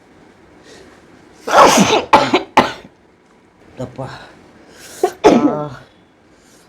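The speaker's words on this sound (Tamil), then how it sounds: "2 தும்மல் வந்துருக்கு." Two loud, explosive sneezes set off by tickling the nose with long grass, each a sharp burst, with a brief word spoken between them and quieter breathy sounds around them.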